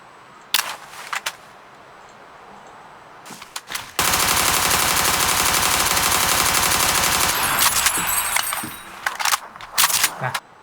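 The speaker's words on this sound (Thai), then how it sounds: "เลือกปืนสักหน่อยนะครับ ลองยิงลองอะไรดู" Automatic gunfire from a shooter video game while weapons are being tried out, with a few sharp isolated shots early, then a loud sustained burst of rapid fire lasting several seconds before tapering into scattered shots and clinks.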